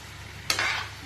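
Local chicken pieces with boiled elephant foot yam and potato hit a hot pan, giving a sudden close sizzle and stir that settles into steady frying over quiet background.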